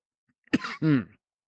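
A sharp cough followed by a short throat-clearing rumble, close and brief, then quiet.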